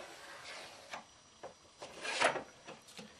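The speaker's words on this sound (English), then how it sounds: "just draw a line down the board, pretty close to the top" A pencil scratches across a wooden board, marking a line for arching internal braces in a series of short, close, rasping strokes, with the loudest stroke near the end.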